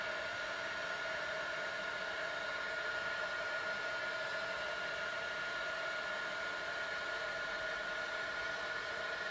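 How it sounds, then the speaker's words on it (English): Heat gun blowing steadily to melt embossing powder on a stamped craft piece until it turns glossy, a constant airy whoosh with a faint whine, close and continuous without pause. "I'm just heating that up until it turns glossy. I love embossing powder."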